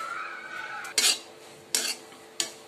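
Grated coconut is dry-roasted in a pan at home for masvadi. Three sharp metallic clinks of a spoon striking the pan ring out, spaced apart, over a quiet background.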